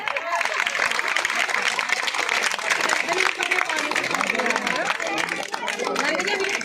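Villagers applauding a newly chosen sarpanch at a village gathering, dense continuous clapping with crowd chatter and voices mixed in throughout.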